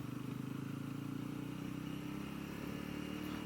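A Genuine G400C motorcycle engine revs hard near 9,000 RPM with a steady, buzzing drone, close and sustained with no talk.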